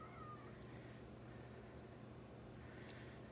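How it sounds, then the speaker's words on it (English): A cat meows faintly and briefly in a quiet indoor room during resin crafting, mostly at the start, with a softer cry near the end. "You can hear my cat meowing."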